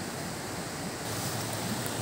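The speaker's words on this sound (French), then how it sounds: "on entend l'eau de la rivière qui coule" River water flowing near a surface water intake plant, a dense, steady rushing wash that stays loud and unchanging throughout, with no voices over it.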